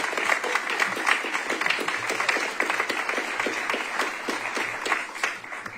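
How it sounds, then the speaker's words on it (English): An audience at a transit program release event gives a burst of lively applause, dense and steady with distinct individual claps, staying strong for several seconds before easing. "that's worth some applause"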